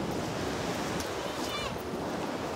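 Wind gusts across the microphone at a beach while ocean waves wash and surge steadily, a dense continuous roar with faint voices blended in.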